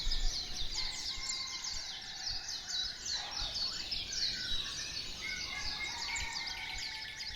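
Tropical birds on Kauai, Hawaii, chirp and tweet in overlapping calls from several directions, fairly quiet against a soft outdoor background, with faint insects and no voices.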